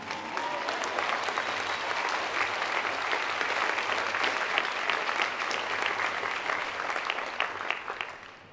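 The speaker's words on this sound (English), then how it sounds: "This is where you clap." A large audience at a Harvard oration breaks into steady, dense applause that holds at full strength for several seconds, close and loud throughout, before trailing off slightly at the end.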